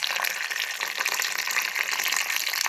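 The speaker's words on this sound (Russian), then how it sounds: "Так, и заливаем водичкой." Hot water poured steadily from a kettle into a cooking pot over tomato paste for cabbage rolls, a continuous loud splashing gush for several seconds with no talking.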